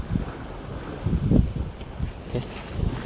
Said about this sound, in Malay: kat sini angin ada agak kuat sikit lah